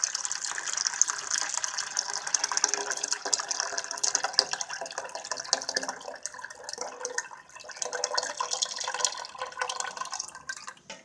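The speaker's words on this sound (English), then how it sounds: "I'm just going to pour it into the current pan very slowly so it doesn't splash" Tomato juice poured slowly into a roux in a pan, a soft continuous trickling and splashing stream of liquid, close and steady, with no talking.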